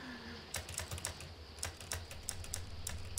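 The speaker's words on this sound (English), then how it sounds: "Come on now, I can hit spacebar" A computer keyboard tapped in a quick, uneven burst of clicks, with the spacebar among the keys, close and fairly quiet over a low steady hum.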